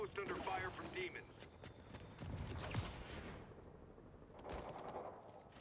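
Gunfire at a rooftop outpost in the Spider-Man Remastered game, scattered loud shots and crackling bursts amid chaotic action noise, with a voice speaking over the fighting.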